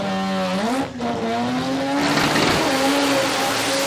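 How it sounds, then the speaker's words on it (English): A turbocharged 13B rotary-powered Mazda RX2 drag car launches hard at a drag strip, its loud engine note climbing steadily in pitch as it pulls away, close and dominant throughout. "A little turbocharged 13B powered RX2 for Rob Caddy."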